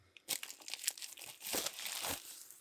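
Scissors snip through the side of a mail package, giving a close, sharp burst of crinkling and tearing with a few separate crunchy cuts, then a longer rustle, with no talk.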